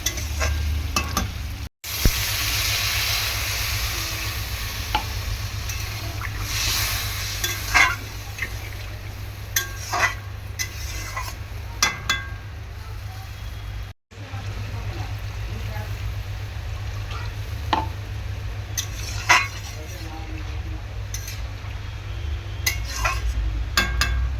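Sautéed potatoes in a pan for a silver carp and eggplant dish get water added and are stirred. A steady sizzle carries on beneath repeated clinks and scrapes of a utensil against the pan, with two brief dropouts.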